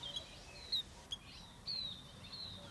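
A small bird chirps in several thin, high, separate tweets spread across a quiet background, fairly close and clear.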